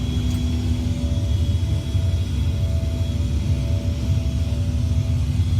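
Steady aircraft engine drone from a flight simulator game flown over southern Great Britain, a continuous low rumble and whir with a faint tonal hum, even and unbroken throughout with no talking.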